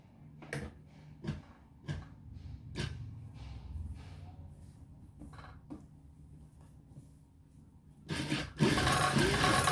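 A sewing machine stitching a neckline on fabric gives sparse soft clicks and creaks at first, then runs loud and steady near the end.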